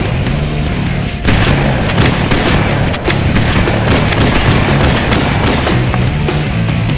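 An M90 shotgun in Halo: Combat Evolved fires loud, booming blasts at close range, heavy repeated shots over a dense roaring background, with sharp hits around the one- and three-second marks.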